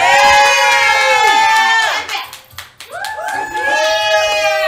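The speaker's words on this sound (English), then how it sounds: "Cheer them on, everyone!" A live gameshow audience claps and cheers loudly in bursts, with children shouting among the crowd. The noise dips briefly in the middle before rising again.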